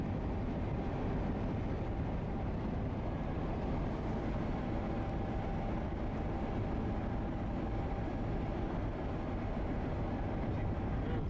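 Near Union Pacific's Big Boy 4014 on its inaugural run, another train passes as a steady, dense rumble of rolling wheels and rail noise holding level throughout, with no voices.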